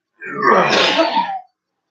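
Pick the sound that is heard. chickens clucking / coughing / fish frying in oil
coughing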